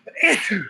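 A single sharp sneeze amid a live chat, close and loud, with a voice speaking briefly around it.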